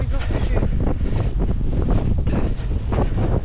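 Strong wind buffets the microphone outdoors at a field where model planes are flown, a loud continuous roar with gusty surges and no clear voices.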